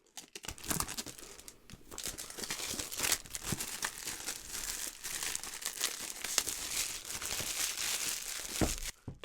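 Plastic wrapping is peeled off an Avalon Nano 3 Bitcoin ASIC miner box, making a continuous close crinkling and tearing that runs steadily for several seconds and stops briefly near the end, with no talking.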